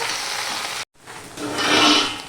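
Okra frying in a wok while being stirred, a dense sizzle that cuts out for a moment, then returns and swells into a louder hiss as the pieces are turned.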